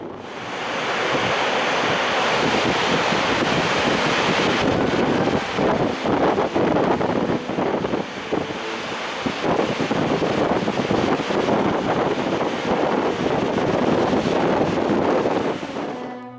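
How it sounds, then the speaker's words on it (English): Broad rushing roar of the Selfoss waterfall in Iceland, about 11 meters high, pouring steadily and loudly throughout with gusts of wind buffeting the microphone. "Arriving at the Selfoss waterfall, we could see the broad front of the waterfall"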